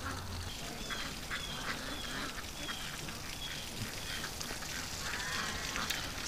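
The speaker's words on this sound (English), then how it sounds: "the ducks are completely scattered all over the property" Ducks scattered across an outdoor property give faint, intermittent quacks and calls at a distance over soft ambient noise.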